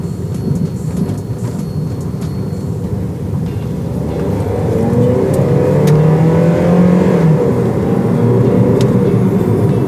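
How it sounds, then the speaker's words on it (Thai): A 2011 Toyota Yaris 1.5-litre, 109 hp LPG car engine revs and accelerates with a low, steady roar that climbs in pitch and grows louder partway through, with a faint rumble underneath. "เดี๋ยวลองเร่งเครื่องดูดูมั่งดีกว่าเนาะ"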